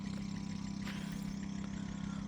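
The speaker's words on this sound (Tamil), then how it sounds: "பக்கத்தில் பாருங்கள் இன்ஜின் வச்சு தண்ணி ஓடிட்டு இருக்குது." A small engine driving a water pump on farmland drones steadily nearby with a constant low hum and rapid mechanical throb, running without change.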